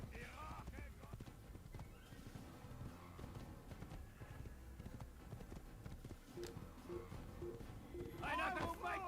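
Horse in Assassin's Creed video game, rapid clip-clop of hooves and whinnies amid game sounds, with a voice speaking over it and a louder cry near the end.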